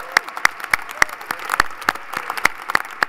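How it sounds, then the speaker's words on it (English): An audience at a formal dinner applauds, with about a dozen sharp, separate claps ringing out over a few seconds at a moderate distance. "let's give them a round of applause."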